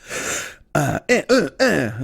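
A rough throat clearing, then a string of several raspy, strained coughs in quick succession, close and loud.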